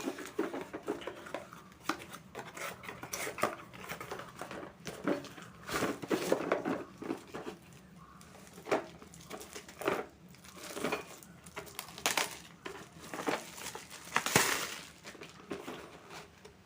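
A 10-piece socket set is unboxed, with soft crinkling packaging, light taps and scattered clicks of handled parts coming in irregular, quiet bursts close by.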